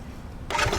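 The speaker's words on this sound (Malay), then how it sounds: "Okey, barulah enjin pun boleh start." A 2022 Zontes ZT155U motorcycle engine starts up with the clutch pulled in. A low idle is followed by a sudden loud burst as it fires at close range, with no voices.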